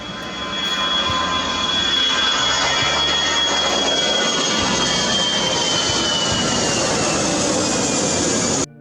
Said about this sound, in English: These are the seconds when the large-bodied Airbus A380 plane will land at Kuala Lumpur Airport